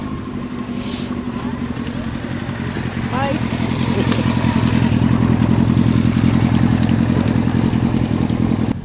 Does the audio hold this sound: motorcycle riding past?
yes